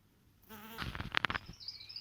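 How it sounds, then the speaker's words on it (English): A bee buzzes briefly at an apple blossom outdoors, a short faint drone followed by a few soft rustles and clicks. "And can you see that bee? She's collecting nectar or pollen."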